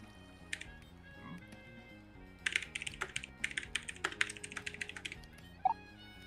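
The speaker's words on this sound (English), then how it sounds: "do the arms change, like, speed depending on, like, how fast you're typing?" Computer keyboard typing while playing Minecraft: quick, irregular bursts of clicky keystrokes, close and moderately loud, over steady game background music, with a short sharp click near the end.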